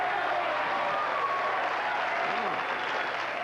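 Studio audience at a 1978 late-night television show claps in a broad, even wash, moderately loud and steady for a few seconds, with faint voices mixed underneath.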